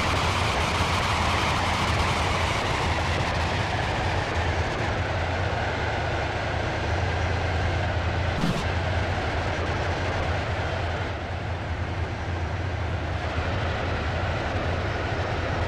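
A Class 68 train in the Roblox game Stepford County Railway rumbles steadily along between Water Newton and Edgemead, a continuous loud onboard drone with one brief click midway and no speech.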